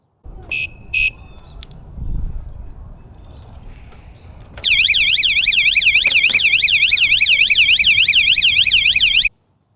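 A Geevon bike alarm sounds a loud, continuous warbling electronic siren for about five seconds, after two short beeps and a quieter stretch.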